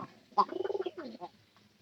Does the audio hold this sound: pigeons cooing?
yes